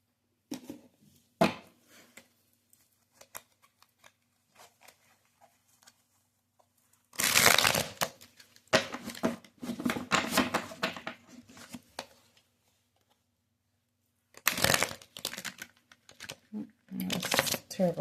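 Tarot cards are shuffled in several quick bursts of riffling and flicking, separated by pauses, with speech heard faintly between them.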